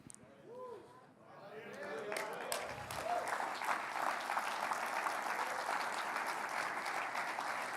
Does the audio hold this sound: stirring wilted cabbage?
no